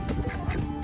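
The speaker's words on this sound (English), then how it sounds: "You naughty hens and duck." Farm ducks kept with hens give a few rough, nasal quacks in quick succession, close by and fairly loud, with a busy background of other birds.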